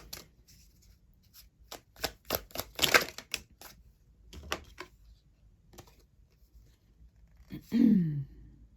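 A deck of tarot cards riffled and shuffled in several quick bursts of crisp flutters and taps, close by, with a short breathy noise near the end.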